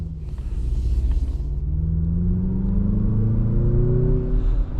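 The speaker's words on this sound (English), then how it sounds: "This turbo engine is just fantastic." A 2026 Mazda CX-50 Turbo Meridian Edition's turbocharged engine pulls hard under acceleration, a steady loud rumble with a rising drone as revs climb, heard from inside the cabin with no talking.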